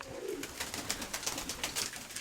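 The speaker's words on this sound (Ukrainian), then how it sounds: "покажу вам одного з молодих голубів, які попали" Soft cooing from young pigeons close by in a loft, low throaty notes that rise and fall, mixed with faint rustling and fluttering.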